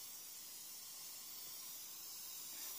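Hairspray misted from an aerosol can over model flock on a scenic diorama, a faint steady hiss running without a break and no talking.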